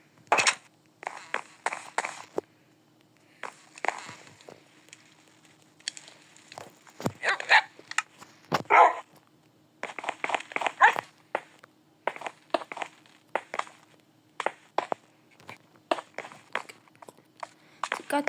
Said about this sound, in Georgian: ძაღლები შემოსულა.